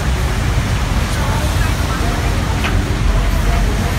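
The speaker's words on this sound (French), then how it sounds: "Regarde-moi la cascade là." Niagara Falls roars as a dense, loud, continuous wash of falling water, with a voice speaking over the rushing noise.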